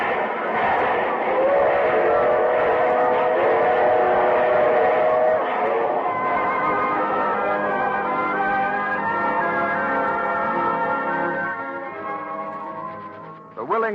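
A radio drama sound effect of a steam train departing: a rumbling, chuffing train with whistle-like tones and bell-like ringing, steady and loud, fading slightly near the end.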